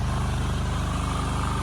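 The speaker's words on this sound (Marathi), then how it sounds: "तर आम्ही ट्रॅक्टरने आता घरात जातो." Farm tractor driving in rural Konkan, a steady low diesel engine chug with even rhythmic pulsing, close and continuous with no voices.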